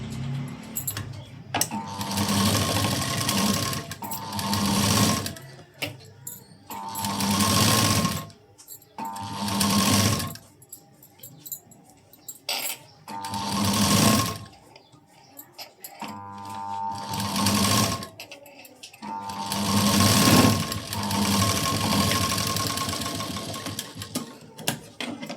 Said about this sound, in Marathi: आता आपण ही साईड पार्टला जोडून घेऊया.